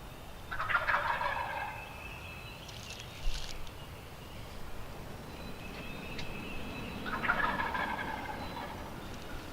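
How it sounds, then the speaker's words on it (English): Wild turkeys gobble in the woods during a hunt, two loud rattling gobbles several seconds apart at mid distance, with a faint call in between over quiet outdoor ambience. "it gets these turkeys really worked up"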